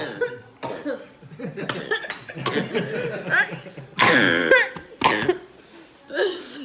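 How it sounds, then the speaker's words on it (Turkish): Someone coughs repeatedly and clears their throat after drinking ginger, harsh close bursts mixed with brief talk and laughter. "Evet daha içemeden öksürttü yani."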